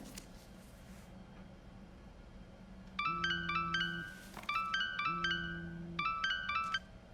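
A phone rings in the video game Tell Me Why, three bright electronic ringtone bursts repeating about every second and a half after a few seconds of quiet ambience, with no voices.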